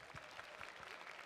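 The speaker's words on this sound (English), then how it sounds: "Clap for yourselves." Dance class participants at a dance convention closing show briefly applaud themselves, a soft, steady patter of many hands clapping heard from a moderate distance.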